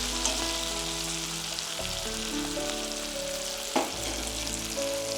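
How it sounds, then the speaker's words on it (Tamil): Onions and tomatoes sauté in a pan, giving a steady, dense sizzle close up, with a soft clatter partway through and a faint hum underneath. "வெங்காயமும் தக்காளியும் நல்லா வதங்கிடுச்சு"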